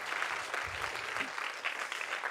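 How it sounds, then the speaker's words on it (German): A live audience applauds the band after a song, continuous close clapping at a steady level with a brief low rumble partway through. "Ein Applaus ist das doch nochmal wert, oder?"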